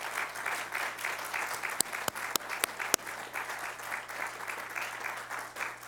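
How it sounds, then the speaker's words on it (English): Applause from an audience at a candidate forum, a steady wash of clapping from a modest crowd with a few sharp, close individual claps standing out near the middle, over a low steady hum. "Let's give them a round of applause."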